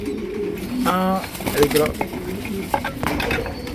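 Big pigeons at a pigeon farm giving a low, throaty cooing call near the start, amid nearby clattering and indistinct human voices.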